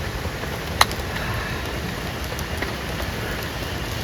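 Steady rain falls over a forest, a dense even hiss of drops on leaves and ground, with one sharp knock near the start and no voices.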